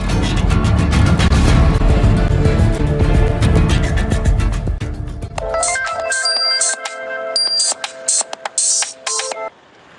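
A telephone rings on an outgoing call: repeated electronic ring tones in short bursts, clear and near, after a loud dense passage of background music fades out.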